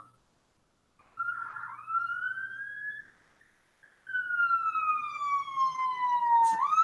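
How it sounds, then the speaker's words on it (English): An emergency vehicle siren, an ambulance or fire engine, wails outside, rising and falling in long sweeping tones that break off briefly and then return louder, with faint road noise underneath. "Ambulance or fire engine or something outside."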